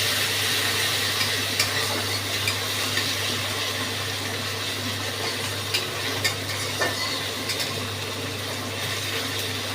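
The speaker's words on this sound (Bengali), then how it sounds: "টমেটোটাকে ভালো করে কষাবো।" Tomato sautés in a pan for a Bengali fish curry with drumsticks, giving a steady soft sizzle and bubble under frequent light clicks and scrapes of stirring. The sound is close and even throughout, with no talking.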